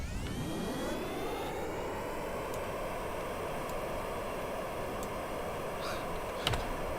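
A jet aircraft taking off in Kerbal Space Program, a steady loud engine roar whose whine rises in pitch as it spools up, with a sharp click near the end.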